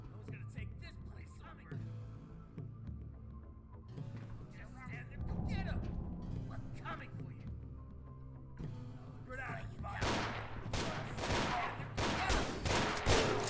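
Gunfire rattles in the multiplayer video game Fissile Empire, with scattered shots and then dense bursts of automatic fire toward the end, while players talk over it.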